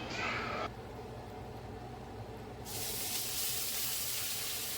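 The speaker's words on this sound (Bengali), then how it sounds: "আর এই পেঁয়াজটাকে খুব ভালোভাবে ভেজে নিতে হবে" Onions and whole spices (cloves, cinnamon, black pepper) frying in oil for Kolkata-style chicken biryani, a steady close sizzling hiss that swells louder partway through as more sputtering sets in.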